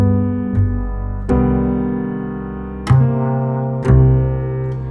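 Jazz piano plays a minor-key 2-5-1 progression with rich chord voicings, ending as the ninth resolves to the root; five sustained chords strike in turn, each ringing and fading before the next, with no talking.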